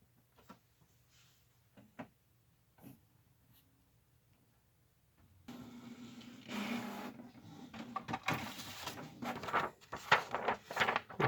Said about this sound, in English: now we're going to turn the printer on